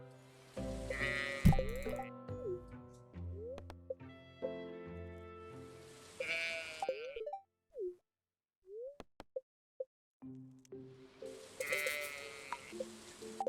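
Sheep bleating in the farming game Stardew Valley: several drawn-out, wavering bleats in clear bursts, separated by quiet gaps with a few soft pops, and no voices over them.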